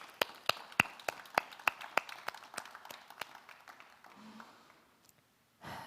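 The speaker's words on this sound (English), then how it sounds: "I'm going to applaud it now" A single person claps about a dozen times in an uneven rhythm, starting sharp and close, then trailing off and fading before a short breath-like noise at the end, in the setting of a university convocation.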